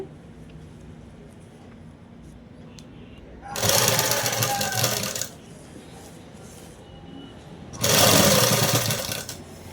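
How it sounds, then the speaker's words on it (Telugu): A sewing machine stitches along the edge of a dress collar in two steady, loud, buzzing runs of a second or two each, separated by quiet pauses while the fabric is turned. "చివరి వరకు ఇలాగనే కుట్టుకుంటూ వచ్చేసేయాలి"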